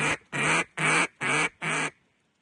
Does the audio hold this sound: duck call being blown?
yes